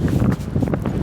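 Wind blowing outdoors in open country with mountains nearby, a steady low rushing roar buffeting the microphone throughout, loud and continuous with no voices.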